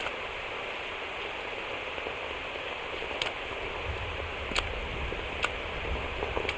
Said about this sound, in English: You can entertain me until the rain stops.